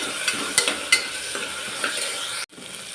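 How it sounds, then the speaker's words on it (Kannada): Tomato, onion and chilli fry in oil in a pan while a spatula stirs them, scraping and tapping in irregular bursts over a constant close sizzle, with a brief break near the end. "ಟೊಮೆಟೊ ಆಲ್ರೆಡಿ ಸ್ವಲ್ಪ ಫ್ರೈ ಆಗಿದೆ"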